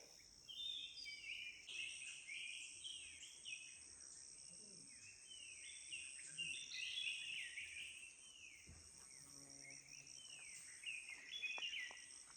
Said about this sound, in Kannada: ಹಕ್ಕಿಗಳ ಚಿಲಿಪಿ ಕೇಳಿಸ್ತಾ ಇದೆ.